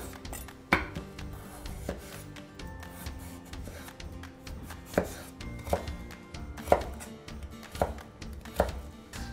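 Carrots being sliced with a knife on a cutting board, with about eight distinct, fairly faint knocks arriving at an irregular pace over soft background handling noise.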